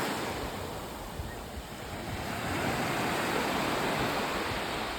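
Ocean surf washing onto a beach in Southwest Florida on a cold, foggy late afternoon, a steady broadband roar of breaking waves with some wind noise, swelling slightly louder midway and continuing without speech.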